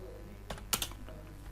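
A few keystrokes on a computer keyboard while entering a task label in a WordPress exercise, with a short cluster of clicks near the middle over a faint steady background hum.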